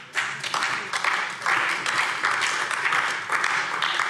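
Scattered clapping from members of a German state parliament's Greens group fills the plenary chamber, a brisk, uneven patter of hands rising and falling in short bursts.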